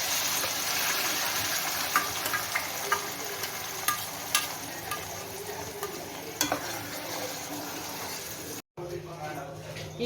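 Chicken kheema with onion and ground masala roasts in a pan, a steady low sizzle broken by a string of sharp spoon-on-pan scrapes and taps. A voice talks throughout.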